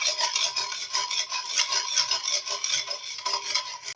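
Dough ingredients with coarse sugar being stirred and mixed by hand in a bowl, a continuous gritty scraping and rasping, close and steady without pause.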